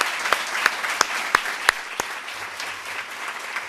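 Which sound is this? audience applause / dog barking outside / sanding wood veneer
audience applause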